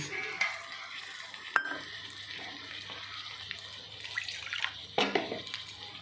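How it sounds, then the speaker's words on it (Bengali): Chicken is stirred into whisked yogurt in a pan, making soft wet squelching and a faint sizzle, broken by a few sharp clicks of a spoon against the pan. "আবার ভালো করে মিশিয়ে নিচ্ছি"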